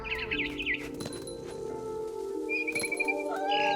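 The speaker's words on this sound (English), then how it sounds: "Then I heard chirping outside my window. It was a barn swallow going back to her nest." Bright, quick barn swallow chirps twitter in short bursts over a steady electronic drone in the video game What Remains of Edith Finch, with a few clinks and flutters scattered through.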